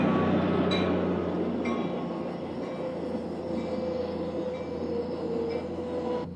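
A train hauled by a Morrison-Knudsen 3,000 horsepower diesel locomotive rumbles steadily past with a deep engine drone, rattling wheels and faint metallic squeals. It stays constant and close.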